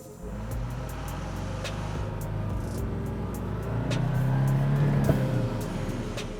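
A Volkswagen Amarok pickup with a manual gearbox pulls away from a standing start, its engine note climbing and growing louder as it accelerates, with a brief dip partway through.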